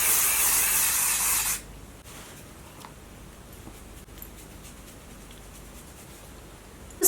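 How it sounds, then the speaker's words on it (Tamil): Dry shampoo sprays onto sectioned hair in one loud, close hiss lasting about a second and a half, followed by quiet rustling and faint handling noises. "பின்னாடி ஏரியாவுக்கும் வந்து இதே மாதிரி கொஞ்சம் லைட்டாக செக்ஷன் பண்ணி நீங்கள் ஸ்ப்ரே பண்ணிக்கோங்க"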